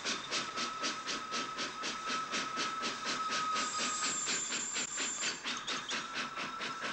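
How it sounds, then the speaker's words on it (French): A steam locomotive rolls along the Paris-Lyon-Méditerranée line, giving a continuous rhythmic chuffing and clatter with hissing steam and a faint whistle tone, steady and moderately loud. "sur laquelle passaient à 80 km à l'heure les grosses locomotives à vapeur"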